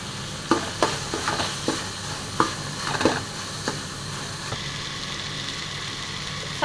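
Chopped onions and tomatoes sauté in hot oil for a goat head curry, with a steady sizzle and several sharp stirring scrapes of the spoon against the pan, close and moderately loud with no talk.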